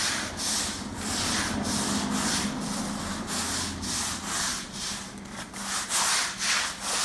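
A stiff Gorilla scrub brush works Simple Green cleaner across a stained epoxy-coated garage floor, making rhythmic back-and-forth bristle strokes, about ten close, loud scrubbing passes with no talk.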